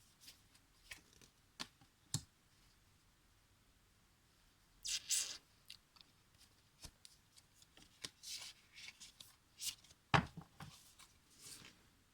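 Deck of cards being shuffled and cut, soft papery riffles and taps in scattered bursts with quiet gaps between, close and faint, no talking.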